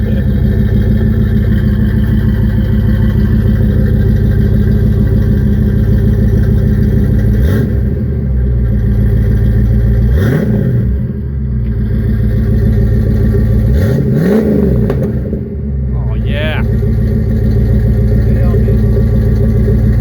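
A custom 1977 Chevy C-10 V8 with a shift kit, estimated at 450 to 500 horsepower, rumbles loud and close, its engine note rising and dipping through several rev swells as it drives.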